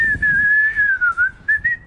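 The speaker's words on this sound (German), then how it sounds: "Niemals in die Kamera pfeifen" A person whistling a short wavering tune, clear and close, with a sustained tone broken into a few brief bursts toward the end.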